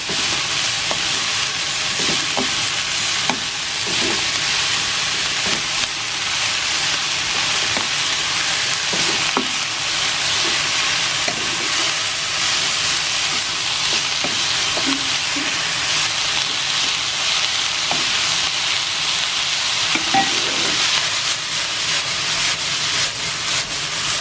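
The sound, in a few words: shrimp and broccoli sautéing in olive oil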